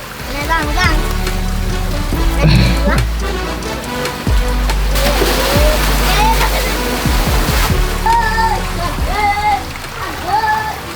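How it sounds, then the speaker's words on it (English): Continuous rushing water flows and splashes under a bridge in North Lombok, Indonesia, loud and close, while children shout and laugh throughout. "there's a water flowing right under my feet"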